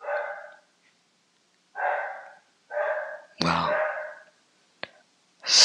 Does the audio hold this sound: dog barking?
yes